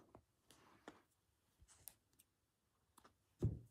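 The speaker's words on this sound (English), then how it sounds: "I can hear my iron is clicking" A steam iron clicks, giving faint, sparse little clicks and ticks scattered through quiet, with a slightly louder knock near the end and no talk.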